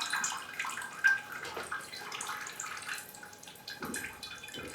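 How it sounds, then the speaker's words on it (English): Water poured from a container into a plant pot holding feed, flooding it and pushing out trapped air; a close, steady splashing and trickling wash runs throughout, with no one talking. "And we will flood the pot."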